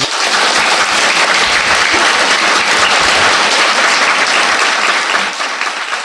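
An audience bursts into dense, sustained applause, loud and even throughout with no voices rising above it, fading slightly at the very end.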